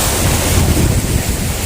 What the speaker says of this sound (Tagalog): Saka ang ganda po ng alon, sobra. Nakaka-relax po ng alon.